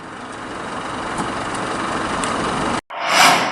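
Loud vehicle noise rolls steadily along a road in Sumatra, where illegal street racing takes place. A continuous engine and exhaust drone holds, cuts briefly to silence, then a harsher, louder roar swells in.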